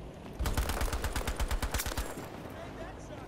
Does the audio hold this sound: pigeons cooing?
no